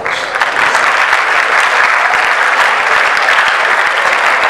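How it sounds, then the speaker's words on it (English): Loud, dense applause from an audience at a junior English debate event, a steady wash of many hands clapping close by, sustained without break for the whole stretch. "They deserve a round of applause."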